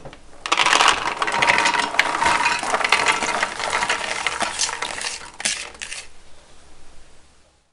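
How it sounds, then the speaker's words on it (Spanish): White beans poured into a cooking pot with sliced chorizo, a dense loud rattling clatter of the beans hitting metal for several seconds before it trails off into quiet. "Añadimos las alubias."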